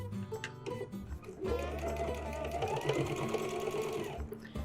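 A sewing machine stitches a flower appliqué onto a pillow, its motor whirring steadily in a near, continuous run after a few brief starts, with no talk.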